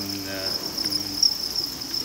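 Farmed crickets chirp in a steady, high-pitched trill, close and continuous over a faint low background, with no voices.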